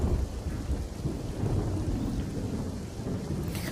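Heavy rain pours without pause over Palitana town and its surrounding villages in Gujarat, with rolling thunder rumbling low beneath the dense, steady downpour throughout.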